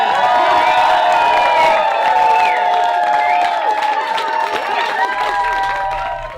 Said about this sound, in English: I want to hear one more huge round of applause for your newlyweds, Andrew and Mattea.